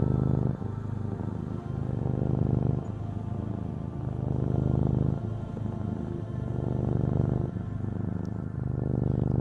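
A cat purrs in steady close-up cycles, a low rumbling drone that swells and eases every couple of seconds without pause, with no talking over it.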